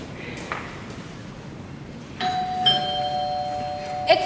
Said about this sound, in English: Nora, that's the bell.